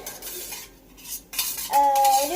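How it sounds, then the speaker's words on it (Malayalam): A metal spoon stirs and mixes inside a container with quick scraping clinks, ending in a bright ringing chime of metal against the vessel, close and clear with no talking. "ഞാൻ നല്ലപോലെ ഇവിടെ നിന്ന് മിക്സ് ചെയ്ത് കൊടുത്തിട്ടുണ്ട്"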